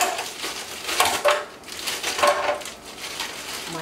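Hard frozen cucumber chunks clatter and thud into a blender jar, a few scattered knocks and crunchy rattles over about four seconds.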